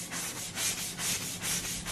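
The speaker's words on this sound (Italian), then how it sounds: "Prendo la spazzolina, bagno leggermente, proprio appena appena, e poi vado semplicemente a strofinare in questo modo." A small, lightly dampened brush scrubs tile grout in close, rhythmic back-and-forth strokes, about six gritty rubbing swells in two seconds, with no voices.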